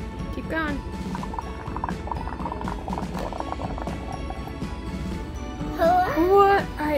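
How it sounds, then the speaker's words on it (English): Bubbles are blown through a straw into watered-down acrylic paint mixed with dish soap, making a continuous close bubbling, gurgling sound, with a child's and an adult's voices cutting in briefly. "Blow bubbles. Blow more bubbles in the yellow."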